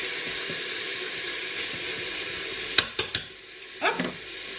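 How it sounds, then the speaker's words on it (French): Carrots being stirred into a Cookeo electric cooker pot, a steady frying hiss under a few sharp utensil scrapes and clacks against the pot near the end. "Je remélange le tout."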